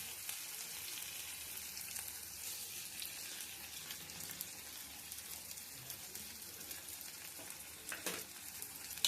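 Yogurt goes into a katla fish curry in a hot pan, a steady soft sizzle and crackle of frying with occasional faint stirring scrapes, continuous and fairly quiet.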